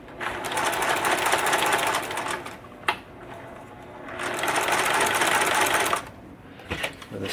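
A sewing machine set to stitch length 3 tacks fabric for a DIY pollen and dust face mask, running in two steady bursts of rapid stitching separated by a short pause.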